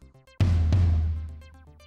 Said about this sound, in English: And this is a floor tom.